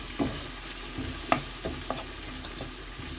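Onion paste frying in a pan for a hilsa dish hisses steadily, with a few scraping stirs and small ticks over a few seconds, close and without voices.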